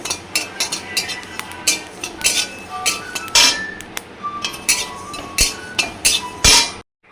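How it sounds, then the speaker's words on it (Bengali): Whole cumin seeds are dry-roasted without oil in a hot kadai, with a metal spoon scraping and clinking against the pan in a quick, irregular series of close, sharp strikes until a sudden stop. "জিরেটা একদম শুকনো খোলায় ভাজবো, কোনো তেল দেবো না এতে।"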